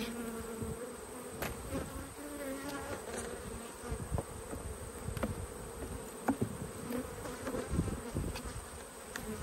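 A colony of honey bees, some gold-coloured Italians among darker ones, buzzes steadily at the top of a hive, a dense close hum with occasional louder passes of individual bees and no voices.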